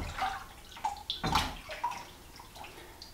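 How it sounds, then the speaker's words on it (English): Hexagonal backsplash tiles being dipped into water before setting in thin-set: several close splashes and sloshes, with drips and a gurgle between the dips, a few separate bursts over three seconds. "I'm dipping these in water"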